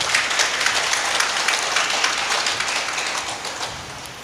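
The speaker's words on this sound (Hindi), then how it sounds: "अगर आप मेरी बात से सहमत है तो जोरदार तालियां बजाइए" Audience at a religious discourse gathering breaks into loud, dense applause, a continuous crackle of many clapping hands that fades slightly toward the end.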